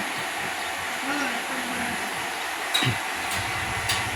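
Tractor-mounted rice seed spreader engine running during a test, a loud steady mechanical roar and hiss close by that holds constant, with a few faint knocks and a brief voice under it.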